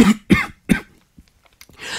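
A person with a persistent, nagging cough lets out three sharp, close coughs in quick succession, then a short pause and an audible breath.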